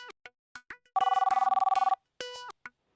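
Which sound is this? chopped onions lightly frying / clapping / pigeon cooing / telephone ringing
telephone ringing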